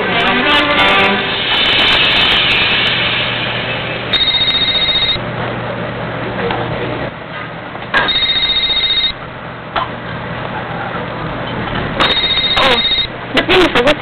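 A mobile phone rings unanswered indoors. Its electronic ringtone repeats in three loud bursts about four seconds apart, over a steady hum and faint background voices.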